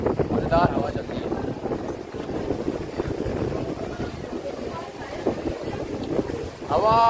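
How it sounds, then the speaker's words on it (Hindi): Wind blows steadily across a boat out on the water, a continuous rushing, buffeting roar against the microphone that persists throughout, with voices talking briefly over it. "हवा बेहतरीन हवा चल रही है यहाँ पे"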